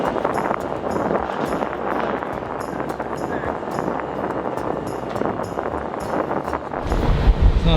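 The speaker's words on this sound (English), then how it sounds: "It's not a bad ferry ride." Ferry crossing Lake Erie toward Middle Bass Island, with steady wind buffeting the microphone over a low engine rumble and washing water, continuous throughout.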